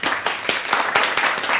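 Classroom applause for a student praised during a French school report-card reading, a short burst of hand clapping with several sharp peaks, fairly close and loud, no talking over it.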